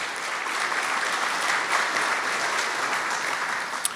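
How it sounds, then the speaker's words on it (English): A crowd at a community benefits plan announcement applauds in a dense, even wash of clapping that holds steady throughout at moderate volume. "that too is something we should applaud"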